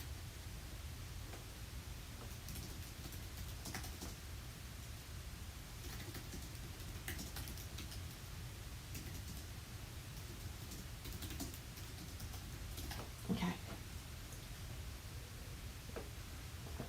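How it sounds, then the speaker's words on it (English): Typing on a computer keyboard, faint scattered clicks and short bursts of keystrokes over a steady background hiss, with a slightly louder knock near the end. "let me just type Michael a message"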